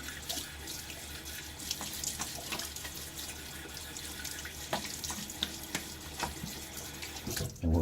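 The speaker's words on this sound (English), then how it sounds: "A little half rinse there." Tap water runs steadily while a shaving razor is rinsed at a sink, with a continuous splashing stream broken by a few sharp clinks and a louder knock at the end.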